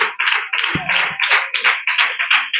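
Clapping at a church Sunday school gathering as children receive gifts from the pastor: steady, evenly spaced claps, close and fairly loud, with a short low thump near the start.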